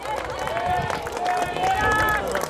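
Clapping from a folk music audience at an outdoor gathering in Zázrivá, a steady dense patter of many hands lasting a few seconds, mixed with crowd murmur and faint voices.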